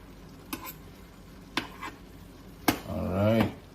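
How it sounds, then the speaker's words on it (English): A spoon stirs creamy vegetable orzo with meat in a pot, making a few soft scraping knocks against the pot, followed by a brief rising scrape near the end, quiet and close. "Let's stir and make sure everything mixes nicely"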